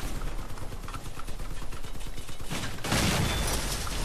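Vehicle combat in the video game Crossout with shotgun fire: rapid, rattling bursts of gunfire over a grinding engine, then a sudden loud, dense blast of noise that holds for the final second.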